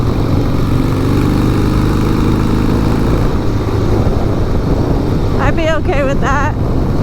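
Harley-Davidson Sportster engine droning steadily in top gear while riding, a loud continuous rumble with wind noise, someone talking over it.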